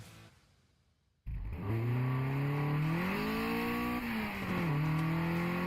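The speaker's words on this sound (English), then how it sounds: "Dyno run." A car engine on a dyno in the racing game Mountain Pass Racing: after a brief quiet lead-in, the engine bursts in loud and revs steadily, the pitch climbing and dipping through the run.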